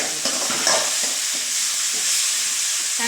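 Vegetables and tomato sauté in a pan for sambar, giving a steady, close frying sizzle with soft stirring scrapes mixed through it, and no talking.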